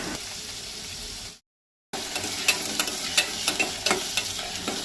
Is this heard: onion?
yes